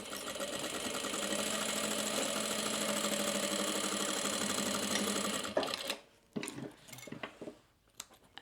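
A sewing machine back stitches along a crossbody bag seam, a fast steady mechanical whir for about five seconds that stops abruptly, followed by scattered handling clicks and rustles.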